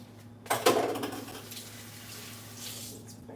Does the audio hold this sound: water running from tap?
yes